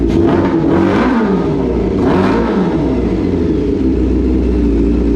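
Engine of a 1995 Honda CBR motorcycle under restoration, running rough, loud and close, with a couple of revs rising and falling over a steady idle.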